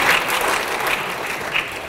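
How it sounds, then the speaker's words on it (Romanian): A theater audience bursts into lively, close applause for Ovidiu Ivan after a stage production, a brisk, continuous clapping with a few sharper claps standing out. "Haideți să-l aplaudăm pe Ovidiu Ivan"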